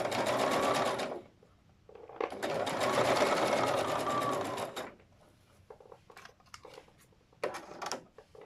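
A sewing machine stitches folded fabric during a tailoring lesson. Two loud, steady runs of stitching are separated by a short pause, and a few quick mechanical clicks and taps follow at the end.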